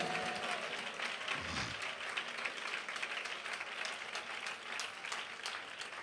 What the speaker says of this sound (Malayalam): കൈയടിക്കുന്നെങ്കിൽ നേരെ കരങ്ങൾ അടിച്ച്.